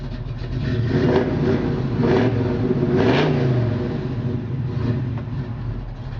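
A 1972 Chevy C10 pickup engine revs up sharply several times in quick succession, each roaring burst rising and falling before settling back toward idle.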